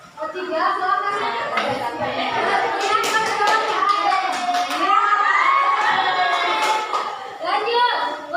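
Classroom of children clapping and cheering together, a loud, steady burst of applause with shouts and chatter mixed in throughout.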